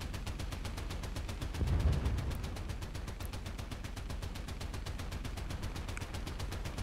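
Sustained rapid machine gun fire in War Thunder, a dense continuous stream of shots with a heavier burst near the start, steady and fairly close throughout with no talking.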